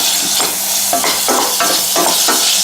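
Beef sizzles and fries in oil in a pan, hissing steadily while repeated stirring strokes scrape through it in quick uneven bursts, close and loud with no one talking.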